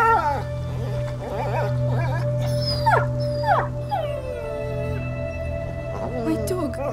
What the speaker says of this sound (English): Oh no, our puppy.